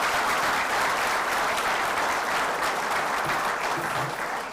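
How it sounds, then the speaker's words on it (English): An audience at the CREDAI and CREDAI-MCHI investiture ceremony gives a long round of applause, a dense, even wash of many hands clapping throughout, with no one speaking over it. "give yourselves a big round of applause"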